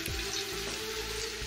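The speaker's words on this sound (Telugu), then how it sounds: "ఇప్పుడు మనము ముందుగా వాష్ చేసి పెట్టుకున్న మష్రూమ్స్ అన్నీ వేసుకుంటున్నాం" Washed mushrooms drop into a pan of frying ginger paste and crackle at once into a loud, dense, close sizzle that keeps bubbling steadily for a brief moment.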